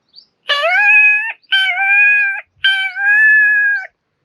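A man imitates a peacock call with his voice. Three loud, drawn-out, wailing calls, each about a second long, are separated by short silences and heard up close with no other sound.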